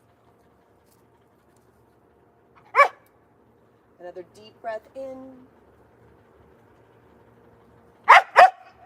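Dogs at home let out a few short, sharp barks and some soft whimpering yips, with a quiet voice speaking between them.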